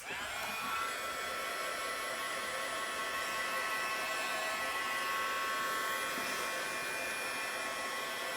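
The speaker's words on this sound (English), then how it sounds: "I'm just going to grab my heat tool and show you what that looks like." A heat tool blows hot air over a paper stamping project, giving a steady, loud whooshing whir like a hair dryer that runs unbroken and close throughout, with no talking.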